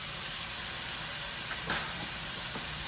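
Garlic sizzling in a hot pan while chicken and mushroom dinner cooks, a continuous close hiss with a few faint crackles and no voices.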